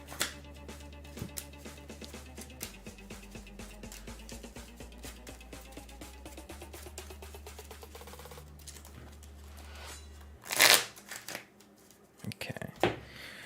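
A deck of Pokémon trading cards is riffled and shuffled close up in a rapid run of crisp flicking snaps, with a louder burst of card handling near the end and a player talking quietly between moves.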